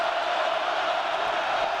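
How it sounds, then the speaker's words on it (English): A packed football stadium crowd at a Texas versus Kansas State college game roars loudly and steadily, a dense wall of cheering noise with no pauses. "with this crowd making this much noise"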